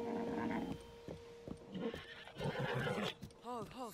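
A horse in the Breath of the Wild video game whinnies with a wavering, pitch-bending neigh near the end, preceded by hoof clops and other game sounds, with people talking over it throughout.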